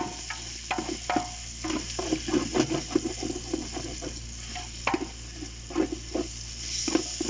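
Tomatoes sautéing and being stirred in a pan while cooking chicken biryani, with a steady close sizzle broken by repeated scraping stir strokes and occasional clinks, and no talking.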